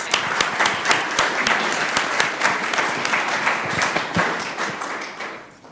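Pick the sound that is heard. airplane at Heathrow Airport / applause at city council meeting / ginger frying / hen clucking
applause at city council meeting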